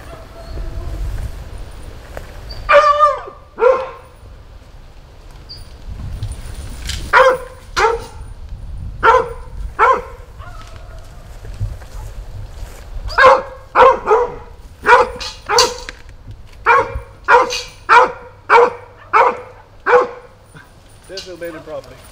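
A healthy puppy barks in a run of sharp yips and short whimpers, close and loud, coming in bursts that grow quicker toward the end, over a low background rumble at night in Anderson County, South Carolina.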